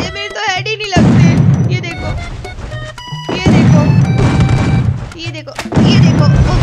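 Loud, dense bursts of gunfire from the video game Free Fire Max, rapid shots in several volleys separated by brief pauses, close and punchy.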